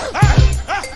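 Dog-like barks and yips used as a sound effect in a rap track, a few short loud bursts over a thumping bass beat within one second.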